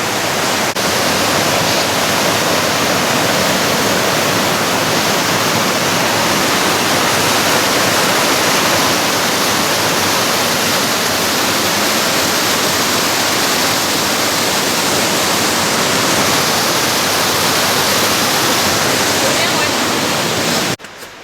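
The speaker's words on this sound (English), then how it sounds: "Another river crossing." River rushing at a hiking trail crossing on Mt LeConte in the Smoky Mountains, a loud, continuous broadband roar of fast water, close and steady throughout, cutting off abruptly at the end.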